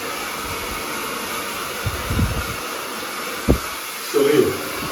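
A hair dryer blows on a client's hair in a hair salon, a steady close whooshing roar that runs the whole time, broken by a few faint knocks and handling noises.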